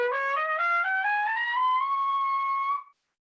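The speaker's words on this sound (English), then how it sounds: "buzz my lips into the natural trumpet, I can play all the notes of the harmonic series" A natural trumpet climbs through notes of the harmonic series, loud and close, with the pitch stepping upward in a smooth, continuous run before cutting off cleanly.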